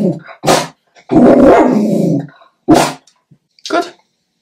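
A dog barks and growls loudly nearby indoors: a few sharp single barks around a longer drawn-out growling bark, with gaps of silence between them.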